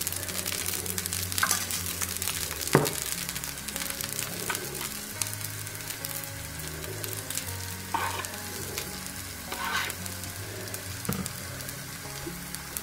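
An egg dosa fries in oil on a hot pan, a steady soft sizzle and crackle that runs throughout, with occasional sharper pops and light scraping, and no talk.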